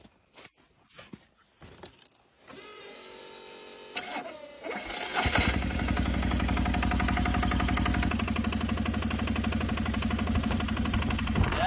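A Polaris diesel engine keeps running after an attempt to kill it: a few clicks and knocks, then the engine catches and settles into a steady, loud rattling idle nearby.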